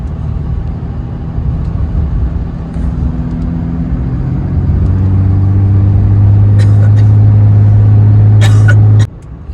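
A pickup truck hauling a livestock trailer loaded with pigs rolls through downtown Quincy, its engine a loud steady low rumble inside the cab that swells slightly as it accelerates, then cuts off abruptly near the end.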